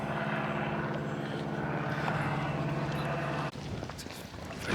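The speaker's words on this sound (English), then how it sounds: "There's a biplane doing the rounds up there." A biplane circling overhead near Tintagel Castle in Cornwall, its propeller engine droning steadily from a distance, with a faint voice nearby.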